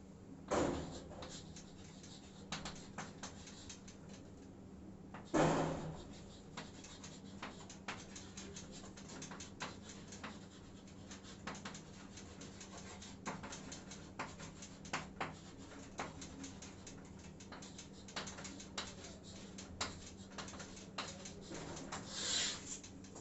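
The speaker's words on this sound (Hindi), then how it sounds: "ठीक है, एंट्री लिखते हैं।" Pen scratching on paper while an accounting journal entry is written out, steady faint scribbling strokes with occasional louder taps and page rustles, no talking.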